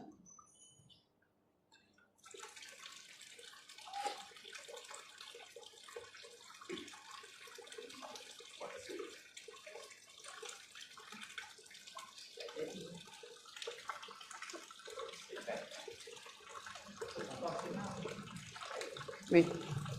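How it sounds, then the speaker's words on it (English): Tap water runs steadily after a brief quiet start, a faint, continuous splashing stream into a container that builds slightly louder toward the end, with a person talking quietly over it. "Tap water."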